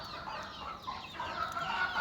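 Chickens cluck in a busy mixed chorus, a steady murmur of overlapping clucks and soft calls from a flock, fairly close with no voices.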